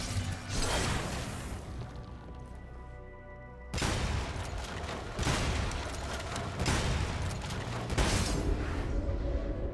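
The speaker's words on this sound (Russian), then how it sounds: "4 раза выстрел дробовика" Shotgun blasts in the Devil May Cry 5 video game, about four heavy booming shots spaced a second or two apart, loud and close, with a whooshing and mechanical tail after each.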